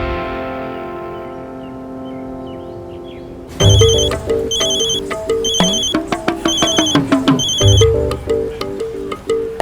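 A telephone rings loudly in repeated electronic bursts with short gaps, following a quiet stretch of soft tonal background.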